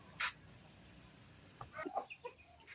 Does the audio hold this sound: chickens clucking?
yes